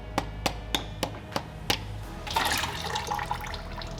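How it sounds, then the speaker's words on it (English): A small mallet taps a long flat tip screwdriver on a McLaren 650S transmission filter, six evenly spaced sharp metallic knocks, followed by a splash and trickle of fluid. "Using a long flat tip screwdriver and a small mallet."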